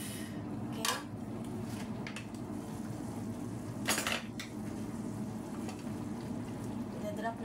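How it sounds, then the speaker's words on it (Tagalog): A spoon scrapes and clinks against a pan while macaroni is stirred into cooked beef, with a soft sizzle underneath and a few sharper metal knocks along the way. "Ihalo na natin ang macaroni, guys."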